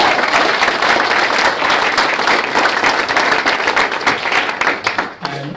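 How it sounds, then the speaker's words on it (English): A startup-event audience gives the guest speaker a big, dense round of applause, steady and loud for several seconds before tapering off at the end. "We give him a big round of applause"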